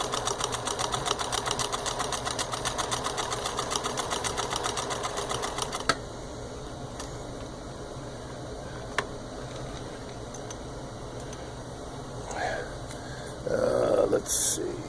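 A serviced Pfaff 362 zig zag sewing machine runs with a fast, even mechanical clatter for several seconds, then stops, leaving quieter ticks and brief handling clicks afterward.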